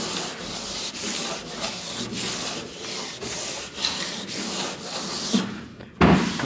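Steady back-and-forth sanding of high build primer along a taped line on a Honda GTX car body, continuous rasping strokes close up with a brief pause near the end.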